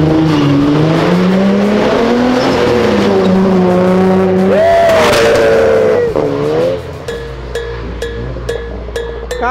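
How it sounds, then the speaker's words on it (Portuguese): Car drifting on a slick, oil-stained patch, engine tone rising and sliding under loud tire squeal for about six seconds before the noise drops to a quieter hum with a few sharp clicks. "Caraca, ela lançou o drift."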